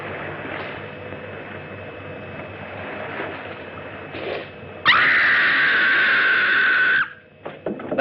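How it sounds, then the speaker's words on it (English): A woman screams in the distance on an island at night, a single sustained high-pitched cry that rises suddenly over a hum of surf and breaks off after about two seconds. "That was a scream."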